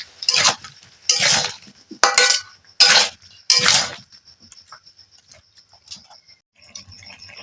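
A spoon scrapes around a pan of potato curry (aloo dum) with a little water: five loud, rough stirring strokes in a row, then quieter scattered clinks and taps of metal on metal.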